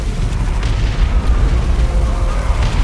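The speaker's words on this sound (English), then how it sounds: "here is the Orbital bombardment on top of all of Fear's stuff." Orbital bombardment explosions rumble in the real-time strategy game Dawn of War II: Retribution, a loud, continuous deep roar of overlapping booms that holds steady throughout.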